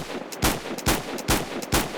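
Four heavy, evenly spaced gunshots boom from a weapon in the Superb Warfare mod for a video game, each a sharp, loud blast with a short tail, close and without talking.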